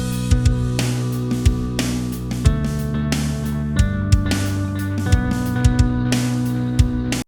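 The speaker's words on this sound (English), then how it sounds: "we've got the drums and we've got the guitars that sound like this" A nu metal groove: punchy kick and snare hits with crashing cymbals drive under thick, chugging distorted guitar chords, loud and close, with short pauses between riff phrases.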